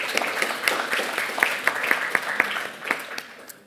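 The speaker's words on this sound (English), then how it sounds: "if everyone could give just a quick round of applause to the signature writers," Short round of applause from an audience at a cybersecurity talk, scattered individual claps over a soft wash of clapping, moderately loud and thinning toward the end.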